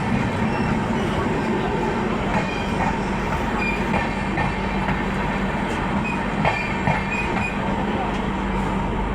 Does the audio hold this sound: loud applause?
no